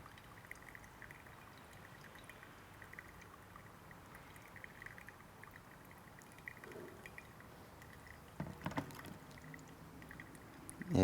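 Water poured slowly over a coffee bed in a pour-over brew, a soft continuous trickle in a quiet room, with a few brief clinks and a louder handling noise near the end.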